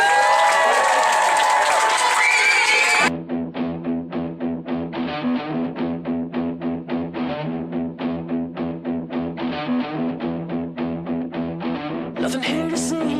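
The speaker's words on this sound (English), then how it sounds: "Let's give our seniors another big round of applause." Clapping and cheering for seniors at a swim team banquet, a loud crowd burst lasting about three seconds before it cuts abruptly into music.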